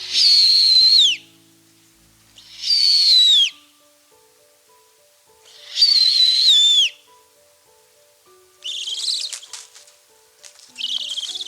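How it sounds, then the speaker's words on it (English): Three loud, clear descending whistled hoots spaced a couple of seconds apart, followed by a rougher, scratchier screeching call at the end. "here are some sounds that owls make"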